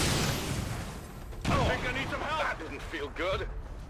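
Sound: grenade explosion in XCOM 2 video game

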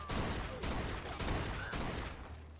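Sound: gunfire in the video game Mafia 2

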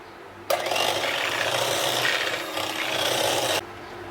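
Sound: beater whipping chilled ice cream base mixture

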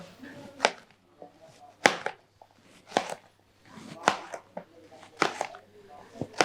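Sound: chopping snake gourd finely

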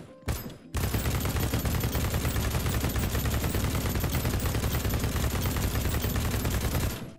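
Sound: Ultimax gunfire with heavy barrel, BattleBit Remastered video game

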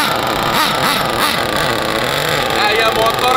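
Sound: fast RC car engine running at full throttle

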